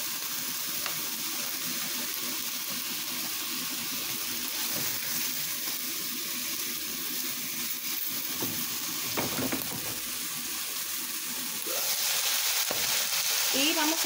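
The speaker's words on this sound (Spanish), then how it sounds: "Ya las puse a fuego lento y una vez que se sellaron, ya las volteas para que se empiecen a cocinar." Pork chops sear in a pan over low heat, giving a steady, close sizzle and spatter with occasional stirring scrapes, and the frying swells slightly louder near the end.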